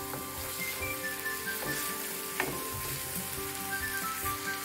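Chopped onion fries in a pan and is stirred. A continuous close, fairly loud sizzle carries repeated scraping stir strokes and a brief clatter midway, with steady tones faintly underneath.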